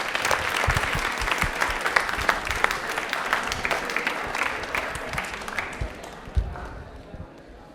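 A TV quiz show studio audience in Rajasthan breaks into loud, sustained clapping that thins out and fades toward the end.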